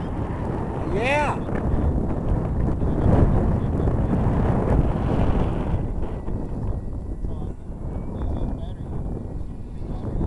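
Steady, loud wind buffets the microphone throughout, a continuous broadband roar over an outdoor flying session with a 51-inch Slick model aircraft, with brief talk nearby.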